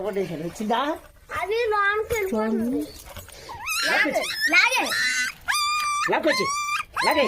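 A young puppy, pulled out in the rain, gives repeated high whimpers and yelps in short rising bursts, close and fairly loud, with people talking over and between the cries.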